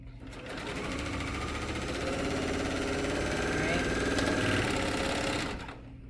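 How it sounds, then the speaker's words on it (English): A serger sews fusible binding onto a quilt corner, making a fast, steady, close mechanical whir for about five seconds before stopping abruptly. "take it back to the serger, and then just serge that corner back on"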